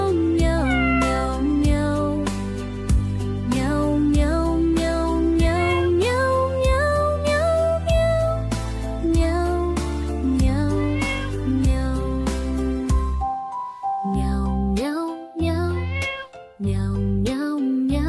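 Repeated, pitched cat meows follow a stepping melody over steady musical backing, running continuously for the whole stretch and then breaking into choppier bursts near the end.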